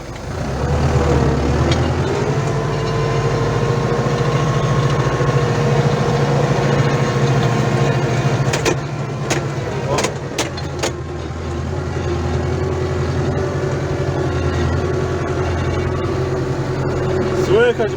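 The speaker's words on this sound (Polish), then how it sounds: "A tu napęd mam wyłączony, to tam tak ciężko idzie." Ursus C-4011 tractor, fitted with a Lucas CAV DPA injection pump, running under load in snow with the drive disengaged: a steady, loud, low diesel drone throughout, with a few sharp clanks near the middle and someone speaking over it.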